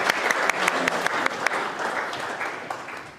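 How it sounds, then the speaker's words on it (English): Audience applause fills a roadshow presentation hall, a steady dense round of clapping with sharper individual claps standing out, loud and continuous throughout. "Mike didn't get a clap."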